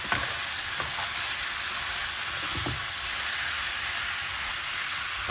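Dry spices frying over medium heat for chicken salmi, a loud continuous sizzle with a few brief scraping stirs and clicks from a utensil.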